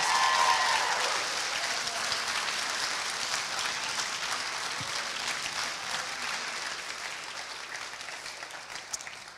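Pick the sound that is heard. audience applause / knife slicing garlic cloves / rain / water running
audience applause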